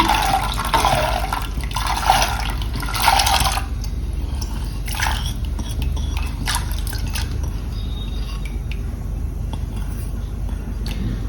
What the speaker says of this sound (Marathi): इथे मी पाणी घेतले आहे कुकरमध्ये. त्याच्यामध्ये आपल्याला डाळ शिजवायला टाकायची आहे.